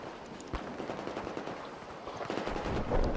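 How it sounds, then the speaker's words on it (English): Rapid automatic gunfire in the video game Battlefield 4 rattles as a dense, continuous burst of shots over noisy battle ambience, growing slightly louder toward the end, with no voices. "someone's shooting me"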